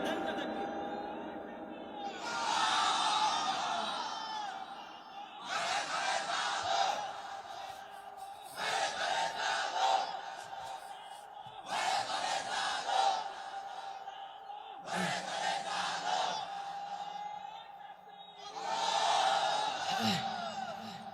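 A large crowd at a religious gathering shouts takbir, Allahu Akbar, in loud repeated waves, five or six swelling chants separated by short pauses, far-reaching and massed.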